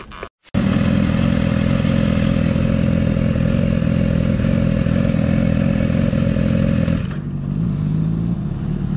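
A BMW S1000RR sport motorcycle with its exhaust muffler lost rides along, its unmuffled engine a loud, raw, steady drone with rattling clatter, easing off slightly near the end.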